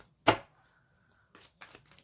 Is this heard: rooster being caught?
no